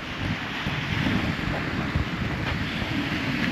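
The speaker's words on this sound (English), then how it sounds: "A strong flow of water here." Strong flow of water along the England coastal path near Roa Island, a steady broadband rush mixed with wind buffeting the microphone, continuous and moderately loud with no voices.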